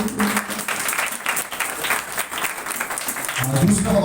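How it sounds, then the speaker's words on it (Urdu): A church congregation breaks into applause during a sermon: a rough, rustling spread of clapping that swells and fades over a few seconds, mixed with voices. "بھرپور تالیاں بجا دیجیے."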